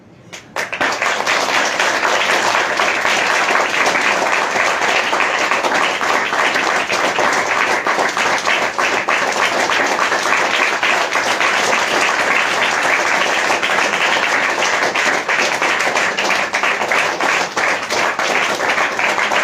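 Worshippers at a church prayer gathering break into loud applause for Jesus, which starts abruptly and then holds as a thick, steady roar of clapping hands.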